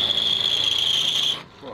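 A drill boring holes in a wooden front door for door furniture, a steady high whining grind that holds evenly, then cuts off abruptly near the end, leaving a faint low rumble.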